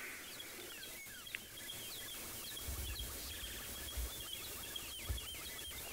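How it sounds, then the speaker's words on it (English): Wild birds calling in the African bush in the morning, a dense mix of chirps, whistles and trills from several species at moderate distance over a steady outdoor hiss, with no talk. "The birds are incredible this morning."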